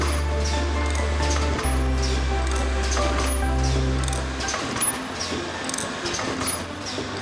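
An HM-ZD175 automatic disposable mask making machine runs with a steady low mechanical hum and layered whirring, broken by regular light clicks and ticks from its moving parts, close and continuous throughout.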